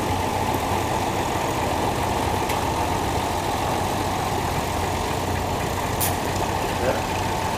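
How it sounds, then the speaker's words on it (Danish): A 1962 vintage 23-horsepower tractor with an oil-hydraulic clutch runs at a steady low engine drone while pulling forward, heard outdoors at a show amid a continuous background wash, with no speech. "Det er oliekoblingen, der trækker traktoren."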